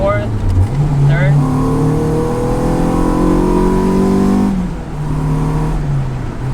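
A car cruising in 6th gear after a Hybrid Racing Shifter v3 install, its engine holding a steady, loud mid-pitched drone that dips briefly near the end, heard from inside the cabin.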